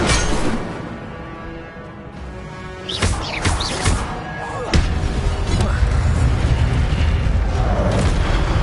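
An Incendio fire spell goes off in the game Hogwarts Legacy, with booming magical bursts and crackling impacts near the middle followed by a rumbling roar, over game music and ambience.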